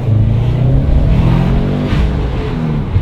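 Car fitted with a massive turbo revs hard, a loud, close, rough engine roar that holds steady with slight pitch shifts throughout, with no talk.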